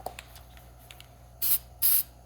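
Two short, sharp bursts of aerosol spray as neon sign paint hits a cleaned hydraulic oil cap from a Bobcat skid steer, each hiss crisp and close against a quiet background.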